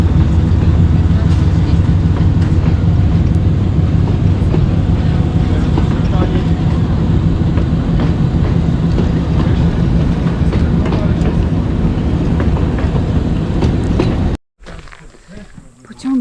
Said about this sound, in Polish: I kolejka ruszyła z Balnicy do Majdanu.